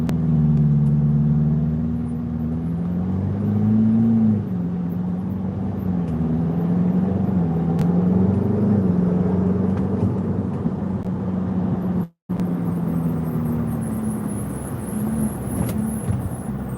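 Ferrari 488 GTB engine droning steadily under way, a sustained low tone whose pitch wavers and shifts with throttle, close and continuous for the whole stretch apart from a momentary dropout near the end.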